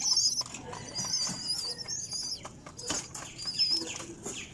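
Pigeons in their coop coo softly and flutter their wings in short bursts, fairly quiet and close, while a person talks among them.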